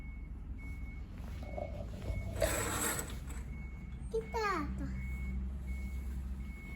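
Truck reversing beeper sounding a steady repeated tone over low engine rumble outdoors, with a voice and other voices talking nearby.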